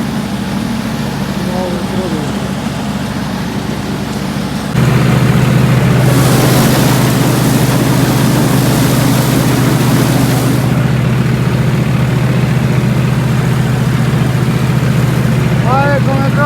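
Reaper harvester engine running steadily at working RPM, a loud continuous drone that rises in level partway through, with a brief hiss burst in the middle.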